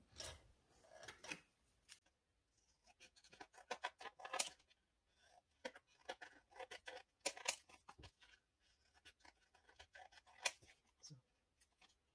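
Scissors snip paper ephemera for a junk journal in irregular bursts of crisp, close cuts with short pauses between them, no talking.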